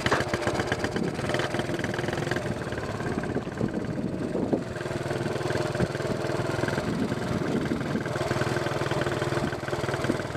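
Honda ATC 70 three-wheeler engine running steadily as kids ride, a continuous mid-pitched small-engine hum at moderate distance, with faint voices in the background.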